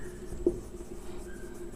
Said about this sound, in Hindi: तो अब हम लोग लिखेंगे